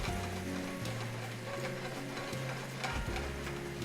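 Shrimp and browning garlic fry in a restaurant pan, giving a steady, dense sizzle with faint stirring, with no voices.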